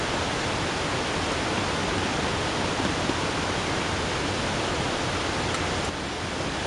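Water pours steadily into a pot for a military combat stove, a dense, even rushing that runs close and unbroken for several seconds with no voices.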